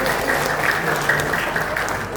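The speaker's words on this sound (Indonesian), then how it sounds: "Tepuk tangan untuk Kak Uul." A scout gathering's audience claps steadily, a dense, even burst of applause lasting a couple of seconds with faint crowd voices mixed in.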